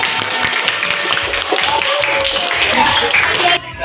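A classroom group clapping together during a civics lesson, a dense run of quick hand claps that holds steady and then stops abruptly, with voices talking over it.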